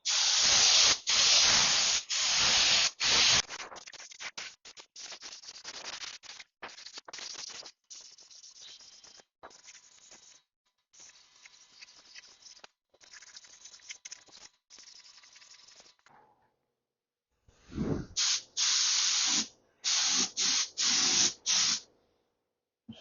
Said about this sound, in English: I'm going to spray it just like I normally would and see what happens.